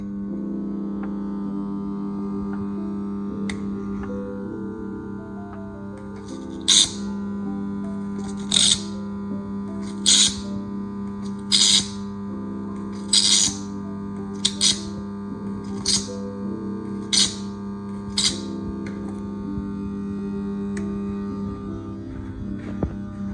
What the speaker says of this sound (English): I'm going to increase to 300. You're going to hear a loud humming sound.